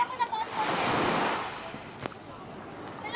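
Ocean surf at a beach washes in as a single rushing wave that swells and fades, with wind buffeting the microphone and brief faint voices.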